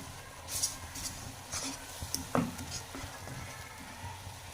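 Fresh cream stirred into egg halwa in a pan, soft sizzling with a few scraping and clinking spoon strokes, quiet and close with no voices.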